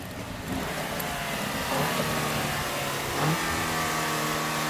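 A car engine turns over and runs unevenly, its steady rumble wavering with a couple of brief rises in pitch, close by with no talking.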